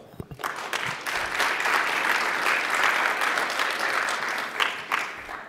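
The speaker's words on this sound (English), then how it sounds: "So please give a warm round of applause." A conference room full of people at a security talk clapping, swelling quickly into steady, dense applause that holds for several seconds before tapering slightly at the end.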